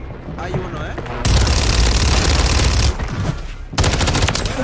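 Heavy automatic gunfire and booming shots in Warzone, loud and continuous in sustained bursts with brief lulls between them, a few faint voices buried underneath.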